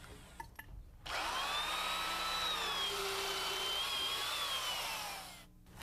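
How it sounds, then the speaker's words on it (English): A heavy-duty drill motor with a sharp auger bit bores a hole in wood, whining steadily for about four seconds after a brief quiet start, then winding down. "We use a heavy-duty drill motor and a good sharp auger bit to drill our holes."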